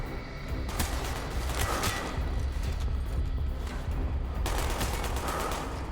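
Sustained automatic gunfire from a Call of Duty: Black Ops campaign battle against British troops, dense rattling bursts with louder crackling volleys at the start and near the end.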